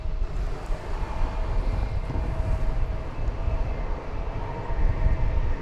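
Aircraft passing near a bridge at DFW Airport, a steady broad engine roar holding at an even loudness throughout, with no voices.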